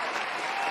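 A short burst of recorded crowd applause triggered by a button press, dense steady clapping at moderate loudness lasting under a second, with no talk.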